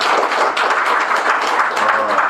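Audience applause at a breakfast forum lecture on socialist Pyongyang, a dense steady clatter of hands lasting a couple of seconds without pause, fairly loud and close.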